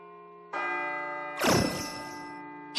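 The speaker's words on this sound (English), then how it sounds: "It sounds like a bell, but where's it coming from?" A bell in the Persona 3 FES video game rings with a sustained, shimmering tone over a droning background, with a louder struck peak midway and another strike beginning at the end.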